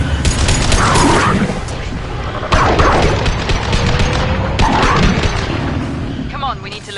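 Gunfire and explosions in Mass Effect: loud booming blasts at regular intervals amid continuous firing and battle noise, with a voice speaking over the combat.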